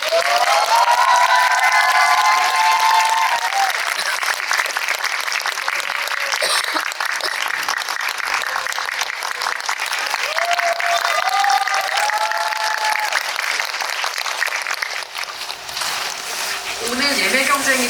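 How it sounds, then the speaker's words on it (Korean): A cinema audience at a film GV event for Humint breaks into loud, sustained applause and cheering as the guests enter, a dense crowd of clapping that lasts throughout, with a host's voice briefly audible over it. "큰 박수로 맞이해주세요."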